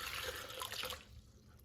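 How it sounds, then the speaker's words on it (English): Water poured into a bucket of freshly dug local clay, a brief close splashing gush that tapers off after about a second, with no talking. "Taking the clay, I'm gonna add water,"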